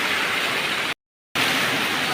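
Steady, dense broadband hiss of continuous rain at a street vendor's stall, loud and unbroken apart from a brief cut to silence partway through, with no voices.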